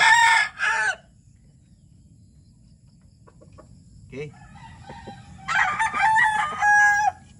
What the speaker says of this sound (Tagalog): Magandang manok mga boss